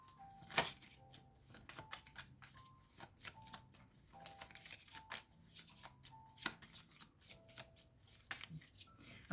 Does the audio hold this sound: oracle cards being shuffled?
yes